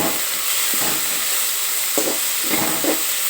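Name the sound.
chopped cabbage added to hot pan, sizzling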